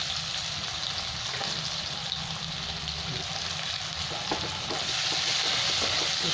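Chopped onions fry in a pan with black cumin, a steady close sizzle with stirring scrapes and a brief burst of sharper crackling near the end.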